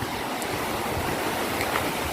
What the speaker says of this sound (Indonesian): aku udah sampai di pantainya, Pantai Pancur di Taman Nasional Alas Purwo